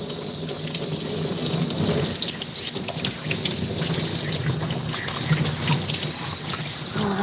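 Running water pours steadily from a tap or sprayer while a dog is rinsed during grooming, a continuous close hiss and splash that stays at an even level throughout.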